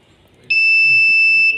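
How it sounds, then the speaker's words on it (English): A domestic LPG gas leak detector's shrill electronic alarm tone starts abruptly and holds steady and loud for about a second, after a brief stretch of low background noise. "we will show the alarm that there is a gas leak nearby us"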